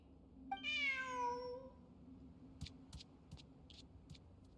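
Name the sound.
cat meowing in a video game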